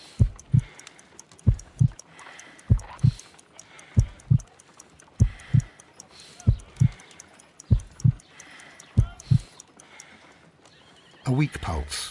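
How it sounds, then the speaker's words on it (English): A slow, weak heartbeat pulses in the Sherlock Holmes: Crimes and Punishments video game, loud paired thumps repeating evenly about every second and a quarter, with a voice speaking briefly near the end. "I need to concentrate and count the heartbeats."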